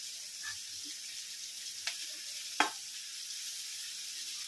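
Tomatoes tossed into a pan with cabbage for hakka noodles sauté with a faint, even sizzle. Two sharp spatula clicks cut through it near the end.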